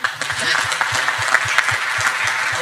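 Steady applause from the audience at the PWI NSW Convention Young Achievers Award ceremony, a room full of clapping hands, even and sustained with no voices over it.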